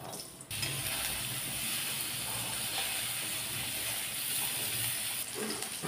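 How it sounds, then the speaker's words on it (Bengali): Potato and eggplant pieces fry in mustard oil left over from frying fish in a wok, making a continuous, close, hissing sizzle that begins abruptly and holds steady to the end. "মাছ ভাজার তেলে আলু আর বেগুনটাকে একটু ভেজে নিচ্ছি।"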